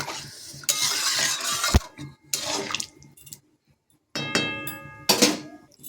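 Water is poured into a pot of new potatoes in a kitchen, heard as a few separate splashing pours with clinks of the pot in between and short quiet gaps, close and moderately loud.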